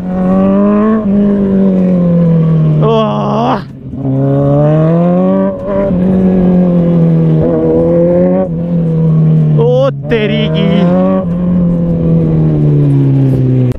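A Kawasaki Z900 superbike on a village road, its engine close and loud, rising and falling in a long series of revs with a few sharp throttle blips, while someone talks over it.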